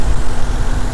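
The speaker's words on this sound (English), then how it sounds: "1JZ engine" A Toyota 1JZ-GE 2.5-litre inline six in a 1998 Toyota Crown Royal Saloon G, in healthy condition with 77k miles, runs steadily at idle with a low, even hum and no talking.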